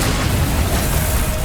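A Confringo blasting spell going off in Hogwarts Legacy: a loud, dense, booming wash of noise that stays at a steady roar throughout the short moment.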